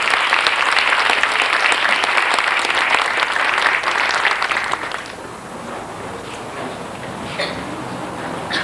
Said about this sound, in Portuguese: Uma grande e calorosa salva de palmas ao companheiro Barbosa Lessa.